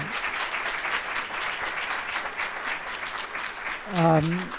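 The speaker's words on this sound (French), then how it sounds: "Vous pouvez les applaudir" Audience applause for the speakers at a conference panel on artificial intelligence in industry. Moderate, steady clapping from a room of people, and a voice starts speaking near the end.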